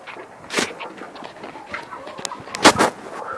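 Chickens cluck nearby in short, irregular calls over faint background noise, with a couple of louder sharp sounds toward the end.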